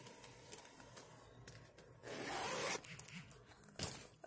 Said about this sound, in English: Has a zipper on top.